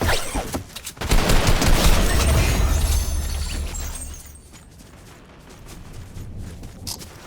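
Rapid gunfire bursts from players shooting in the Fortnite video game, loud and dense for a few seconds and then thinning into scattered shots in the distance.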